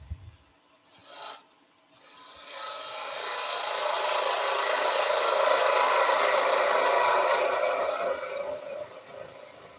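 A skew chisel cuts wood on a lathe, giving a sustained hissing, rasping scrape that swells and holds at close range after two short bursts near the start, with no talking.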